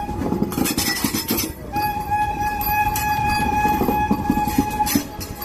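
A Vande Bharat train with a technical fault is towed by a freight engine toward a railway station, rolling with steady rumble, faint clinks and a sustained high whine.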